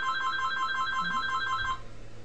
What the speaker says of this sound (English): wouldn't you know it, the phone rings.